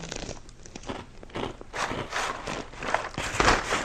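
Crunchy breakfast cereal is chewed close up, with repeated crisp crunching bites rising in loudness toward the end, and no voices.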